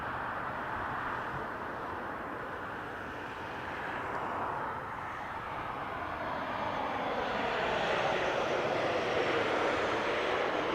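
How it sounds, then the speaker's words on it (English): An Alaska Airlines jet taking off from runway 26 at Las Vegas sends a distant, moderately faint engine rumble that builds gradually and grows louder toward the end, with no voices. "Look at this Alaskan Airlines flight taking off from runway 26."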